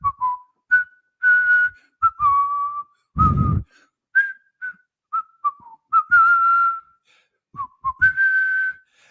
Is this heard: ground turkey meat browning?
no